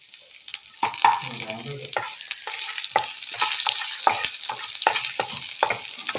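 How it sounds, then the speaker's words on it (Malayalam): Chopped ginger and garlic sauté in a pan, crackling and sizzling steadily up close while a spoon stirs and scrapes in repeated sharp strokes, with no talking. "നല്ലപോലെ ഒന്ന് വഴറ്റി കൊടുക്കാം ഇഞ്ചിയുടെ പച്ചമണം മാറുന്ന വരെ കേട്ടോ"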